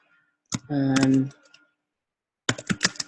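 Someone types a note on a computer keyboard, a quick close burst of clicking keystrokes at the end, preceded by a brief spoken word.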